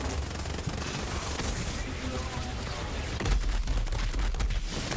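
Zane's Salvation gun in Borderlands 3 firing in rapid sustained bursts, a dense rattling fusillade with booming impacts in a busy game fight, no speech over it.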